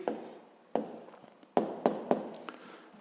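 Pen on paper writing out a sixth-grade maths answer, a floor area: a few quick close scratchy strokes with sharp taps between short pauses, quiet and alone.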